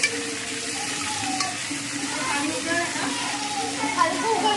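Chopped tomato sizzles and crackles in a frying pan for prawn biryani, with stirring scrapes throughout and people talking over the cooking.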